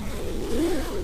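A single quick jacket zipper pull, close and clear, running for about a second with no talking.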